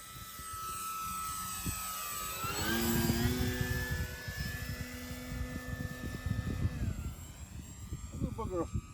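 A Dynam PT-17 RC model biplane flies past with a thin electric motor whine that sweeps down in pitch as it passes, then holds steady. Outdoor wind rumble and people talking run underneath.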